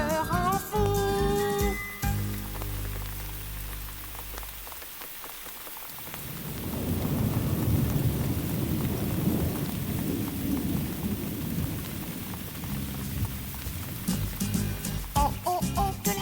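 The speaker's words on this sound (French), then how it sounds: "entendez-vous la pluie qui tombe et qui tape" Heavy rain pours steadily on surfaces with low rolling thunder, framed by a tuneful clarinet-led music passage at the start and faint musical notes returning near the end.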